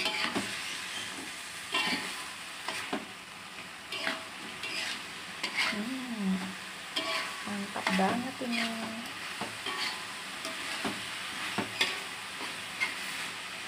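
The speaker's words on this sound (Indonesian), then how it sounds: "ini kita aduk sampai kuahnya rada kering ya" Eel, tempeh and petai stir-fry sizzling steadily in a pan while a utensil stirs and scrapes through it, with scattered clinks over the continuous frying hiss.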